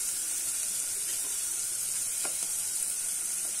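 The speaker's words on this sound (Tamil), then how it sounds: "வெங்காயம் கொஞ்சம் வதங்கட்டும்" Onions sauté in hot oil with a loud, even hiss and crackle that holds steady throughout, and a couple of faint stirring scrapes can be heard within it.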